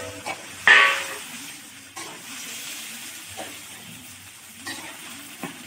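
Sago pearls fry in oil in a pan for laddu, giving a soft, steady sizzle with a few scraping stirs and short clatters scattered through, close and moderately quiet.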